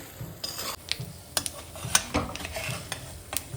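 Tempering spices with red chillies fry for a wood apple chutney: a soft sizzle runs under repeated clicks and scrapes from a utensil stirring in the pan, close by.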